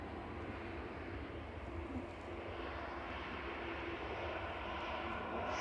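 A Ryanair airliner arriving from Faro roars at Manchester Airport, a steady, broad jet-engine rush holding at constant strength across the whole stretch, with no voices over it.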